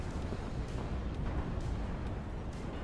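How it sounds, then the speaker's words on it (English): Mortar fire in the WARNO video game comes through as a series of muffled, distant thuds spaced about half a second apart over a constant low battlefield rumble. "Mortars firing, these tanks assisting."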